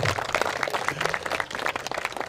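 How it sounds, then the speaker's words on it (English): Wedding guests give the bride and bridesmaids a quick round of applause, a dense, steady patter of many hands clapping together without pause. "Let's have a quick round of applause for our bride and our bridesmaids."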